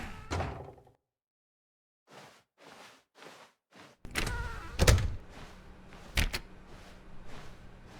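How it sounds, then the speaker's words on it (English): Doors in The Stanley Parable, heard as a hollow door thud followed by a series of short knocks and clunks, then louder banging and movement close by with brief quiet gaps. "When Stanley came to a set of 2 open doors, he entered the door on his left."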